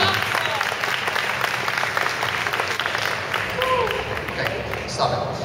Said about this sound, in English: I heard a little applause over there